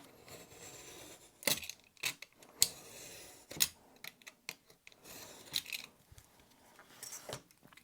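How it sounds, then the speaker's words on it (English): An X-Acto knife trims glued foam material for a homemade stamp, giving sharp, separate cutting clicks and scrapes at irregular intervals, close and crisp over a quiet room. "And then I can cut this off. I'm using this X-Acto knife here."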